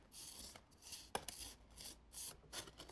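Wet sand is scraped off a handmade plaster dinosaur fossil cast in a series of soft, close, rasping rubs with short pauses between strokes, quiet and without speech.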